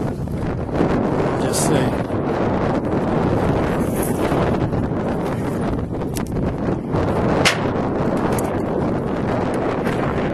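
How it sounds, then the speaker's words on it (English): Strong wind buffets the camera microphone on an open shore while fishing with a cast net, a loud continuous roaring rumble that masks nearly everything, with a brief spoken voice underneath. "I don't know how many times I'm going to throw with this wind in the face, because it can affect the camera."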